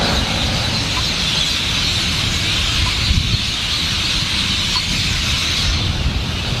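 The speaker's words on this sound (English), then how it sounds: "the birds here are crazy." Dense, loud chorus of birds in Cairns, Australia, shrill screeching calls layered continuously with no break, near and overwhelming.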